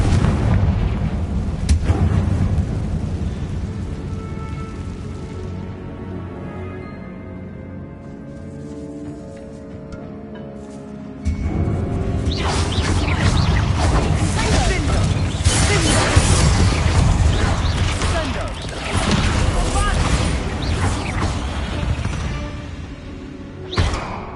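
A Confringo fire spell in the Hogwarts Legacy video game bursts loudly with a heavy, rumbling blast that lingers as a crackling roar after a calmer musical stretch, with a voice speaking over parts of it.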